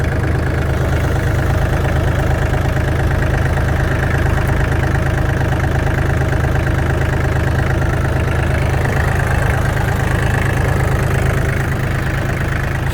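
A Japanese Yanmar mini tractor with a soil tiller, 584 engine hours, idles loudly and close by, with a steady low diesel chug that holds an even rhythm throughout.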